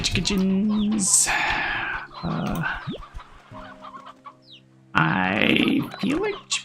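Chickens cluck and squawk up close in loud, choppy bursts separated by brief gaps, with one drawn-out rooster-like cry and a final flurry of agitated clucking.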